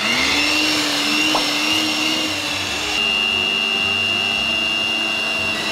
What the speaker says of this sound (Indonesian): terus kita mixer lagi 5 menit